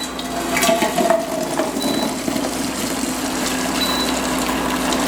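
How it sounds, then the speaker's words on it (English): Hot water pours from a pot of cooked beans into a catch pot, a steady splashing gush with close, continuous noise and no talking. "all the water is gonna drain to this pot, and this pot is gonna catch the beans"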